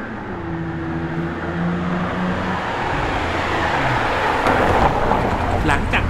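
A car fitted with an X-pipe exhaust and 42/1 header drones while driving, its engine note rising as revs sweep upward, heard from inside the cabin under talk.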